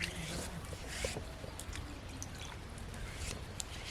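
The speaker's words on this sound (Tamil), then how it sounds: "அம்மியை கழுவி எடுத்துக்கலாம்" Water is poured and splashed over an ammi, a traditional flat grinding stone, a soft continuous trickle and pour with a few drips, close and fairly quiet.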